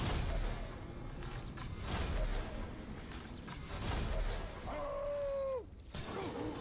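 A Caragor, a wolf-like beast in the video game Middle-earth: Shadow of War, lets out a rising, sustained howl amid loud game noise and combat sounds, with a brief crash before it.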